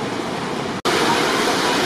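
Water rushing through a donut hole rock formation in Utah, a steady, loud broadband roar with a brief cut-out in the middle before the flow noise resumes.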